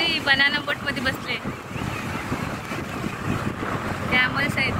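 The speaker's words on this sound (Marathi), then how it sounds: "सुंदर भारी समुद्र आहे" Sea waves wash continuously at a busy beach where people ride a banana boat, a broad rushing surf with wind buffeting the microphone, and voices rising briefly near the start and end.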